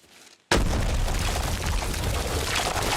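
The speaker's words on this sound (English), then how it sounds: "He then pulls the pin off a grenade that was in his pocket, and this happens to Montanio." A grenade detonates in a scene from The Walking Dead TV series: a sudden loud boom cuts in after a brief quiet moment, then a dense, sustained roar of blast and debris fills the rest of the clip.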